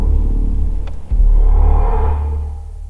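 A deep synthetic start-up rumble from a BMW XM, sound designed by Hans Zimmer, drops briefly, surges back and then slowly fades, loud and close inside the cabin.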